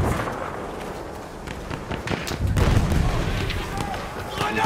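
Grenade detonates in a first-person shooter, a dull low rumbling burst swelling amid scattered sharp pops and gunfire, with speech mixed in.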